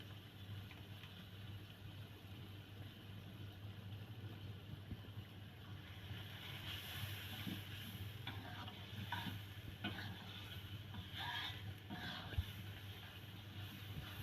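Ginger-garlic-chilli paste is stirred in a frying pan for a potato curry, a quiet, steady sizzle under a low background hum, with a few soft scraping strokes near the end.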